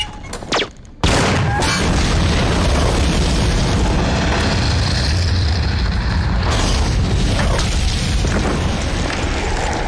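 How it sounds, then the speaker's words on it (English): A sudden, massive explosion from a film-set bomb erupts after a brief quiet moment, followed by a sustained, loud roaring rumble and crackling debris. "There's a big explosion"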